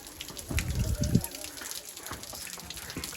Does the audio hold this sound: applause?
no